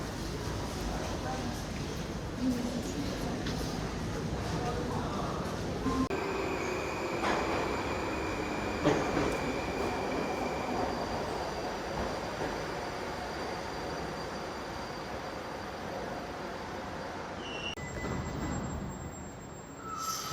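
A Tashkent metro train rumbles steadily along the track with rolling wheel noise and a few squeals and clunks. It is fairly faint and sits beneath a voice talking throughout.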